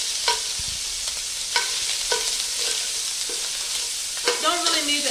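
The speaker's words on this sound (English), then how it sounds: "I just want to cook the pancetta until it's fully cooked, golden brown." Pancetta fries in olive oil in a pan, a constant bright sizzle with a few soft clinks of a utensil moving the pieces around.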